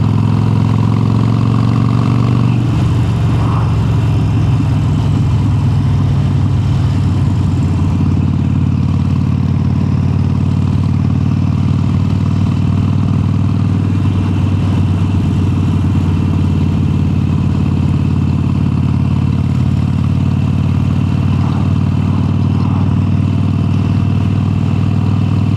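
A Harley Sportster 883 with an upgraded exhaust pulls hard in top gear, its deep loud engine drone rising steadily under throttle with heavy wind rush, continuous and close throughout.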